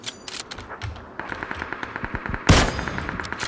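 Rapid bursts of gunfire in PlayerUnknown's Battlegrounds, a fast run of sharp, evenly spaced shots heard from a distance, then a louder, closer blast near the end.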